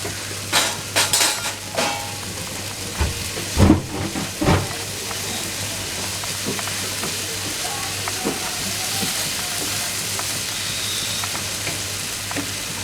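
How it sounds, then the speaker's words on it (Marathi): Dried prawns (sukhi karandi) with salt and coriander cook on low heat in a pan, giving a steady soft sizzle and hiss with a few stirring and utensil scrapes near the start, close and moderately quiet. "अजून 1-2 मिनटं आपण मंद आचेवर शिजत ठेवायचं आहे"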